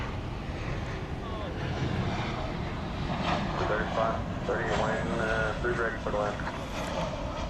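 An American Airlines jet taxis toward takeoff at DFW at night with a steady, loud engine roar and whine, while a person talks over it partway through.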